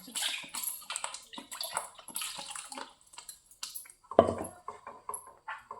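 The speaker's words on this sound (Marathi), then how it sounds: "आपल्याला पाहिजे तेवढं पाणी ॲड करायचं." Water is poured into a cooking pot of spinach for palak paneer in a short splashing gush, among light clinks and handling noises nearby; no talking.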